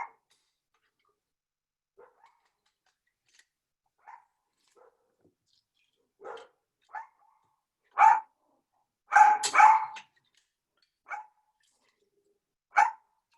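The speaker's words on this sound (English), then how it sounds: "I am sorry for the noise of my dog." A pet dog barks in a home kitchen during cooking: scattered single barks, faint at first, then louder and closer, with a tight cluster of sharp barks midway and a few more spaced out toward the end.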